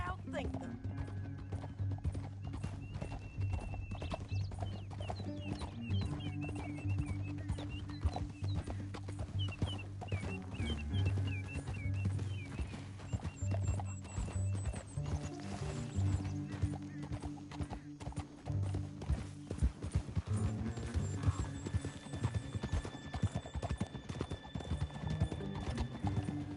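Horse hooves clip-clop steadily at close range in a Western setting, with occasional neighs and whinnies and faint background music under a sparse spoken line.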